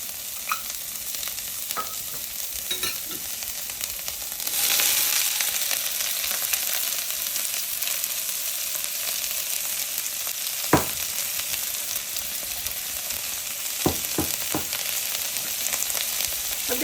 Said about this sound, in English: we're going to start off by sauteing our vegetables and our mushrooms